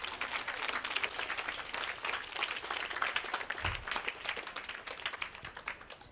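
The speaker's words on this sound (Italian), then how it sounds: "Ottimo, un applauso." Audience applause at a community meeting in a regional council hall, dense steady clapping from a crowd, sustained and fairly even before tapering slightly.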